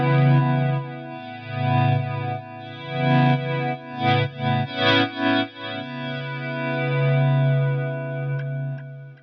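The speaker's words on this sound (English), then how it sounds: "this intro is using a clean sound with a delay and flanger combination" Clean electric guitar notes with delay and flanger swell in and shimmer with a sweeping, swirling tone and echoing repeats, ending on a long sustained chord, playing the intro of a song.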